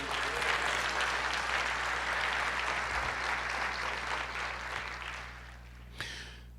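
A congregation applauds during a Brazilian church service, with broad, sustained clapping across the room under a low steady hum. The applause fades toward the end, and one sharp sound stands out near the close.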